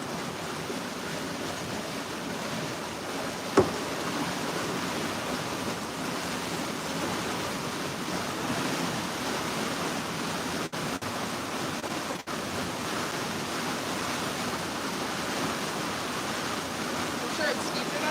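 A sailboat moving through water in wind, giving a steady broadband rush of water and air that stays even throughout, with a couple of faint knocks and no clear talk.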